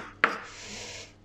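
A knife chops an ingredient on a cutting board while preparing a rabbit tagine: one sharp, close chop, then a soft, steady scraping hiss that fades out.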